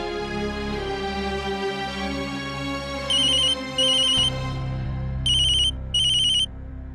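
A telephone ringtone sounds in four short bursts of two pairs over background music, loud and clear with no talking.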